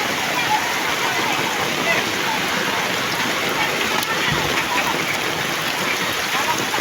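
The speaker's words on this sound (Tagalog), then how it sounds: "So bali talagang biglang lakas ang volume ng tubig" Flood water rushes down from a mountain, sweeping along wood debris, as a constant loud roar of churning water with no let-up, while a voice speaks faintly beneath it.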